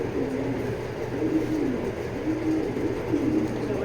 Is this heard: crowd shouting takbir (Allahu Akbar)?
no